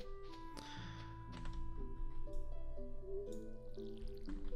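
A watering can pours over crops in Stardew Valley, giving a few short, soft splashing bursts beneath steady melodic background game music.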